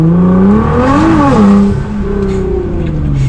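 A Nissan GT-R accelerates hard, its engine note climbing loud and close in a rising harmonic sweep before easing into a steady drone.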